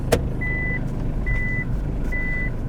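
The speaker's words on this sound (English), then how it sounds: "So if I put her in reverse" Mitsubishi Delica van reversing, its three evenly spaced high reversing beeps sounding close over a steady low engine rumble, with a sharp click at the start.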